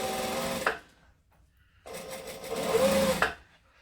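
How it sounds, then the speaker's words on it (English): A sewing machine stitches a hole shut on a garment in two bursts of steady motor whirring, close and clear, with a short pause between them. "So I'm just stitching it shut."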